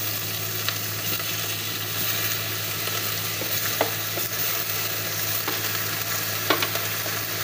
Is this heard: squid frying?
yes